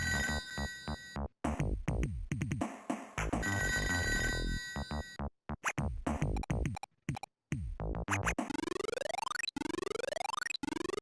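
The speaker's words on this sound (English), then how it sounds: "That's ridiculous with that stupid phone. You always hear it." A phone in the ToeJam & Earl video game rings in rapid electronic chirps and warbling tones, broken by brief gaps and ending in sweeping synthetic bursts, loud and without speech.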